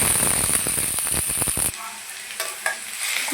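Cham grass stalks fry with garlic in a hot pan, a loud close crackling sizzle with stirring scrapes that abruptly drops to a quieter, hissing simmer punctuated by a few utensil clicks.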